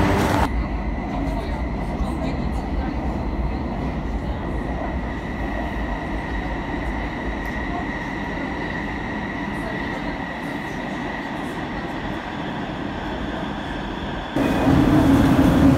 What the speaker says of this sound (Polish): My już zaraz wrócimy na stację i pojedziemy metrem do drugiej stacji